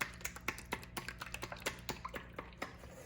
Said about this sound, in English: I'm gonna slightly tilt my bowl and I'm gonna just whisk it